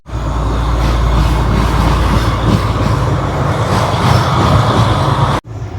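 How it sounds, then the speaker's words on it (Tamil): A loud, steady rumble of a passing train in Colombo, Sri Lanka roars continuously, heavy and close, then cuts off abruptly near the end. "ட்ரெயின் போகுது"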